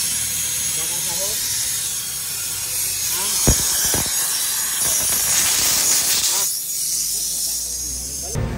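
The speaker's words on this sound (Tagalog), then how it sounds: "Ayan, ito po yung may singaw." Air hisses out of a leak in a sharp, continuous rush, with a few brief knocks and handling sounds partway through before the hiss tapers off.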